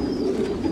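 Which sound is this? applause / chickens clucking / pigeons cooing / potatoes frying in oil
pigeons cooing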